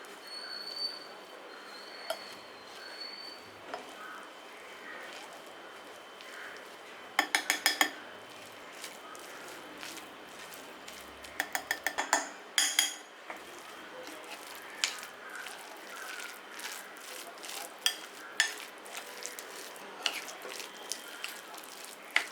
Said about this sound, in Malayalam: ഇതെല്ലാം കൂടി നന്നായിട്ട് മിക്സ് ആക്കാം